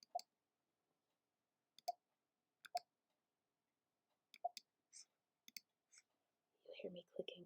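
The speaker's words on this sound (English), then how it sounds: "You hear me clicking is because my computer is being a butthole." Computer mouse clicking: sparse, crisp single and double clicks, close and quiet against near silence, followed by faint whispered speech at the end.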